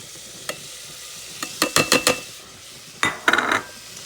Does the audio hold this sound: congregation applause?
no